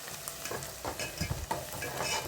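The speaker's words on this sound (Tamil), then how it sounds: "நல்ல வெங்காயம் வதங்கிக்கிட்டு இருக்கு பாருங்கள்" Onions sautéing in a pan for chicken fry give a close, steady sizzle with brief scraping stir strokes throughout, and no voices are heard.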